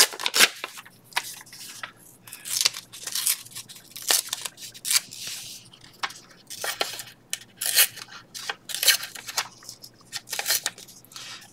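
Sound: tearing off a small piece of material

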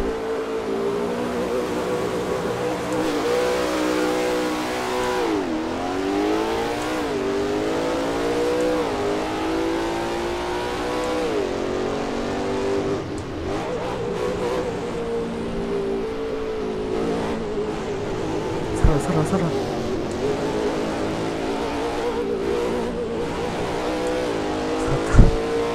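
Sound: Ford Raptor engine revving in video game Assetto Corsa

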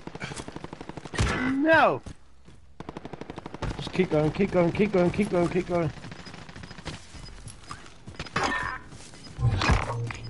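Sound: gunfire from a house in a video game

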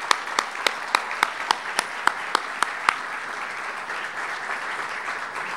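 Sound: audience applause at anniversary celebration

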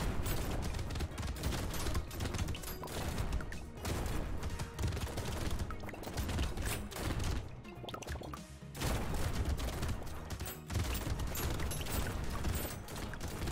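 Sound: shotgun firing in the video game Brotato

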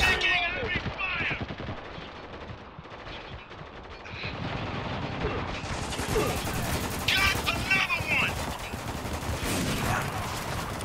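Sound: heavy gunfire from the video game Spec Ops: The Line

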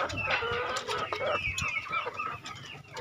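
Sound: free-range chickens clucking

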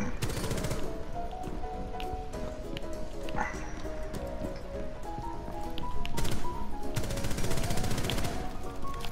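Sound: gunfire in the video game Rainbow Six Siege

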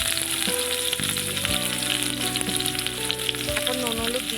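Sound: stirring potatoes frying with green chilies and poppy seeds

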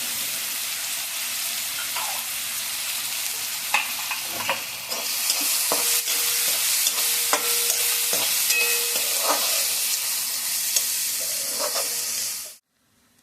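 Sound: garlic and onion sautéing in a pan

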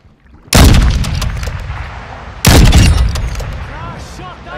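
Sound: gunfire in a video game

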